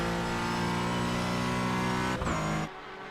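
GT4 racing car in a sim race at the Nürburgring screams at high revs into the final corner, a loud sustained engine whine that dips briefly, then cuts away suddenly near the end.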